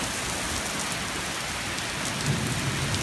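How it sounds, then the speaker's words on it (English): Heavy thunderstorm downpour, rain coming down in sheets with a dense steady hiss of drops on surfaces and a low rumble of thunder building near the end. "And it's thunder, and lightning, and rain."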